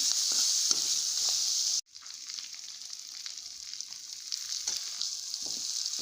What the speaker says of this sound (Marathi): आता यामध्ये एक चमचा हळद टाकून घ्यायची आहे आणि कोथिंबीरही टाकून घ्यायची आहे आणि मिक्स करून घ्यायचं आहे